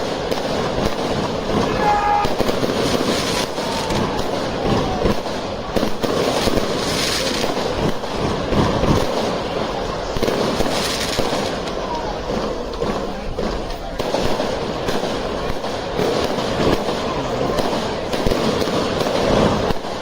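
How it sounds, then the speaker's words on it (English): Fireworks go off in the background around a lit bonfire night in Ulster, a constant dense crackle and rumble of distant bangs that runs the whole time beneath a voice talking nearby. "So that's the noise of fireworks in the background."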